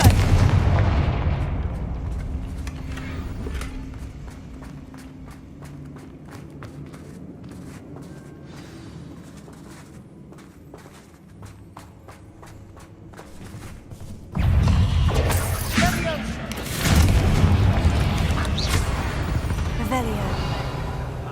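Confringo fire spell explosions in the Hogwarts Legacy video game, booming blasts and rumbling impacts rolling under battle noise, growing louder in the second half, with voices speaking amid the action.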